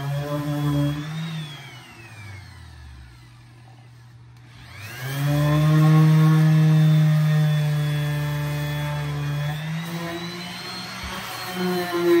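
A steady motorized whir of a sander with 120-grit paper on a fiberglass patch on a bathtub, pausing briefly then starting up again, continuous and close with a droning hum.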